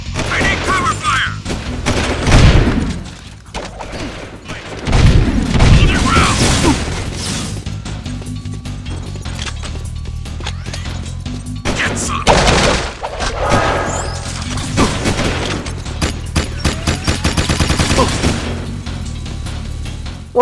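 Loud gunfire crackles through a cover-fire firefight in the Jak II video game, with dense bursts, booming blasts and clattering impacts layered over game music, a voice speaking intermittently amid the continuous chaotic barrage.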